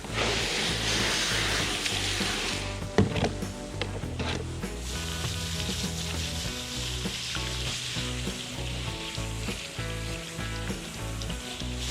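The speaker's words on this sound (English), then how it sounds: "we just kind of rinse the pecans off" Stratified pecan seeds are rinsed under water to wash off vermiculite, a continuous splashing wash with light rattling and one sharper knock partway through, alone and fairly close.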